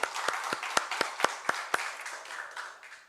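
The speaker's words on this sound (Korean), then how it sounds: "우리 하나님께 영광의 박수 올려드리겠습니다" A Korean church congregation at a Sunday worship service claps in unison, sharp rhythmic beats about four per second over a softer wash of scattered applause that tapers off at the end.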